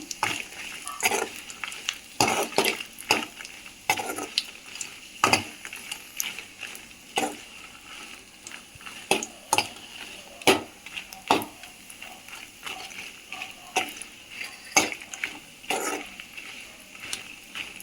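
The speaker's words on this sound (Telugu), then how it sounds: "స్టవ్ సిమ్లోనే పెట్టుకొని వేపుకోవాలి ఇవన్నీ" Curry leaves dry-roasting in a pan on a low flame for curry leaf podi, with a faint sizzle and repeated sharp scraping clinks of a spatula against the pan at an uneven rhythm.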